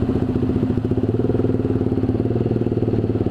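Honda Sonic 150R motorcycle engine ridden on light throttle, a steady close, loud throbbing idle-like pulse with rapid even firing beats and faint clatter throughout, no talk.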